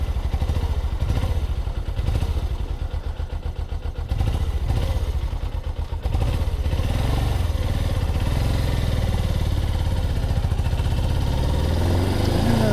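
A cold Suzuki GS500 motorcycle engine idles close and loud while warming up, with a pulsing, slightly uneven rhythm that steadies as the revs rise toward the end.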